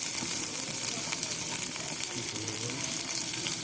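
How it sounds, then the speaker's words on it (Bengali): Crushed ginger hits browned garlic in hot oil while dragon chicken is being cooked, giving a loud, continuous sizzle close by with faint stirring and no voices. "রসুনটা লাল লাল হয়ে গেলে এবার থেতো করা আদা দিয়ে দিলাম"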